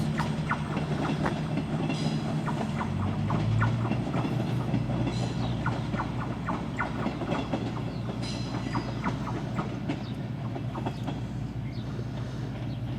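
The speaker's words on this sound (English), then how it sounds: "Bye-bye train." A train rumbles steadily past nearby at Bobadilla, Spain, its wheels clicking rhythmically over the rail joints with a continuous low roar.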